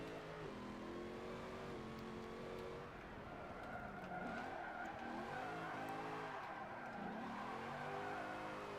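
Car tyres skid through a four-wheel drift in the racing game Forza 7, a continuous engine drone with sweeping pitch changes under a steady, loud squeal of rubber.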